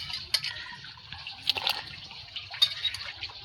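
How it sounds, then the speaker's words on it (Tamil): Fish curry simmers in a clay pot, giving scattered, faint bubbling pops and small gurgles close by, with no voices over them. "இப்போ பாருங்க, குழம்பு கொதிச்சுட்டு"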